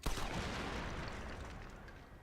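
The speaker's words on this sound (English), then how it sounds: "I'm pretty sure that would have made a bigger explosion than that." A dynamite blast blows open a door in the video game Red Dead Redemption: one sudden boom followed by a long, rumbling, hissing roar that slowly fades, heard quietly and alone.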